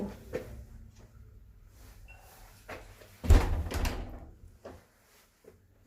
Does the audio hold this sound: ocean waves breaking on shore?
no